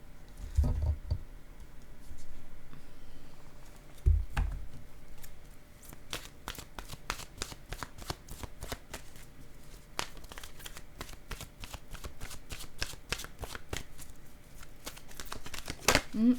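An oracle card deck is shuffled by hand, making a long run of quick, crisp riffling taps and flutters. A few soft thumps come at the start, and the shuffle stays close and fairly quiet throughout.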